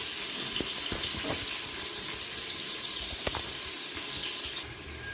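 Rice for a mushroom biryani is washed under a running kitchen tap, with water streaming steadily and splashing as grains are stirred by hand. A few sharp clinks sound along the way, and the flow cuts back near the end.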